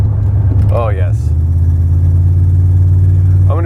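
GMT400 truck driving on the road to heat up newly fitted brakes, a steady low engine drone filling the cabin with someone talking briefly over it.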